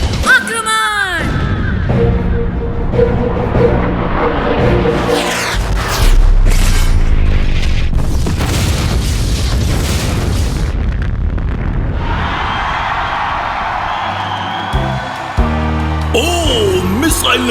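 A cartoon missile strikes a small cannon on an animated car, setting off a long, loud sequence of booming blasts and bursts with rumbling debris, swooshing effects and dramatic music layered throughout.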